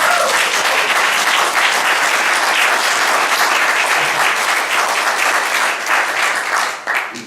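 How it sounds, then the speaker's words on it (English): Sustained audience applause fills the room at full strength throughout, a dense steady clatter of many hands that begins to thin only in the final moment. "Can we give them one more round of applause?"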